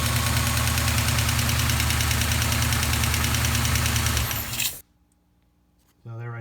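A Duster 360 engine idles loud and steady with a rapid, even ticking from a noisy lifter running through it, then cuts off abruptly into near silence before a brief rising sound at the end.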